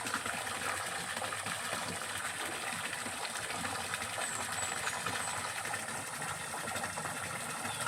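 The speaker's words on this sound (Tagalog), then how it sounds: "walang problema ng tubig. Lakas." Strong running water gushes steadily in a rural province setting, a dense continuous rushing flow that holds at the same level without a break.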